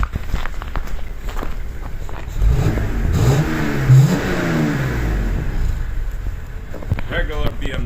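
A stock-exhaust 2.5-litre BMW 525 E61 estate idles, then revs up in a couple of rising surges before settling, close by and fairly loud over steady background noise.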